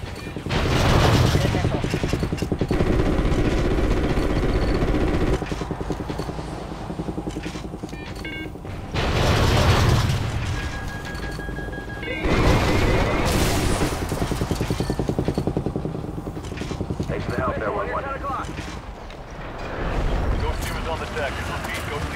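Missile strike explosions in the video game Call of Duty Ghosts: heavy booming blasts roll out in repeated loud waves, mixed with rumbling battle noise, and voices talk over the radio at times.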